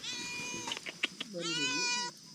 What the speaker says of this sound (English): and there's a cat that's very happy there's visitors.